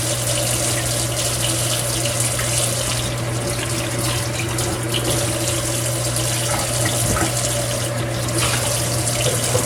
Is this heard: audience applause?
no